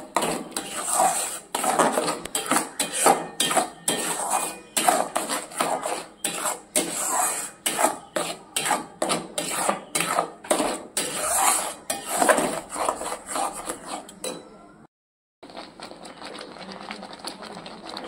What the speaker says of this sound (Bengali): দিয়ে ভালো করে মিশিয়ে নেব আর নাড়তে থাকবো